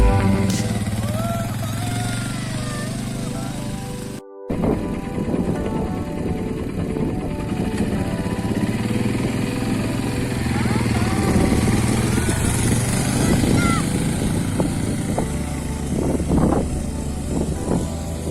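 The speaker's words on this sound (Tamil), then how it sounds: "இந்த பைக் இப்போ ஆல்ரெடி ஆனில் இருக்குது" Small dirt bike idling in desert sand dunes, a steady close engine drone with a brief dropout and slight revving, running under someone talking throughout.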